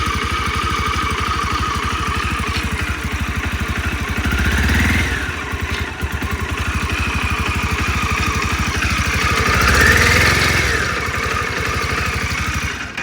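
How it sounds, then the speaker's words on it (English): A motor engine idles roughly with a rapid, steady chugging pulse, swelling slightly louder twice as it runs on without a pause. "The motor doesn't sound that bad either right now."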